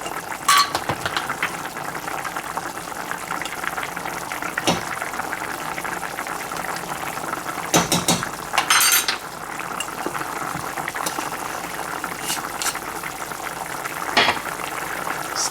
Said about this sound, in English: I'm going to increase the flame a little bit. Add some ghee.